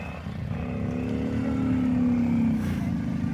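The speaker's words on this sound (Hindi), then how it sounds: "ये देखो यहाँ से बाइक आ रही है" A motorbike draws near on a rural road by Thana Dam in Punjab, its engine droning steadily and rising to a louder, rougher pitch as it closes in, with no voices over it.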